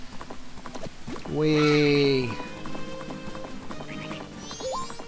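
Horse galloping in the video game The Legend of Zelda: Majora's Mask, a steady run of hoofbeats under game music, with a person's excited shout partway through.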